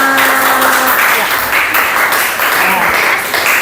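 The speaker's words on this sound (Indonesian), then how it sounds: "Beri tepuk tangan untuk kelompok 5." Group applause in a classroom for group 5, a loud, continuous wash of many hands clapping close by, with a voice heard briefly at the start.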